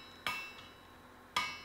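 Two sharp, ringing hammer blows on hot iron, spaced about a second apart, as an iron axe-hammer handle is forged flat and clean; each strike is close and loud with a short metallic decay, and there are no voices.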